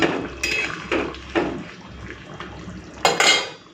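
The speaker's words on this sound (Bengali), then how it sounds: "চলুন একটু ঢাকা দিয়ে দিচ্ছি" Metal clatters and knocks of a lid being set on a pot of pomfret fish curry with taro in a home kitchen, several distinct clanks spread out, the last one louder and ringing briefly.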